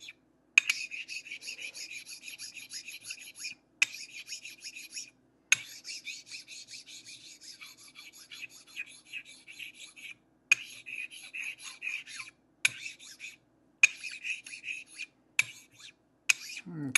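A Genco straight razor is honed across a whetstone with a little slurry, giving a run of repeated rasping, scraping strokes in short bursts separated by brief pauses, close and fairly even in loudness.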